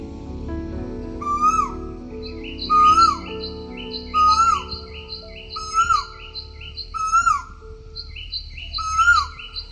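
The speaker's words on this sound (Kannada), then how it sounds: "ಬೆಳಗ್ಗೆ ಪಕ್ಷಿಗಳು ಎಷ್ಟು ಚೆನ್ನಾಗಿ ಹೋಗ್ತಿದ್ವು ಗೊತ್ತಾ" Birds sing in the early morning: repeated, clear chirping phrases come at a steady rhythm and stand out above a low background hum, with no talking.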